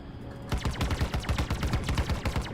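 Rapid-fire guns on a Cutlass Black ship in Star Citizen, a quick steady stream of punchy shots starting abruptly after a brief quiet hum and continuing loud and even.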